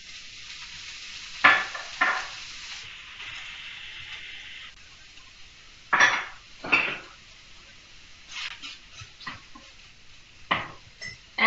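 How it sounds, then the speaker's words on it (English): Protein and veggies cooking in olive oil in a hot skillet, a steady soft sizzle broken by intermittent scraping and clinking of a utensil against the pan, close by. "A little bit of olive oil to my pan, and then I'm just going to dump my protein and veggies in there."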